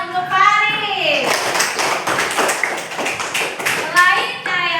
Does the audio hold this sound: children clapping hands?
yes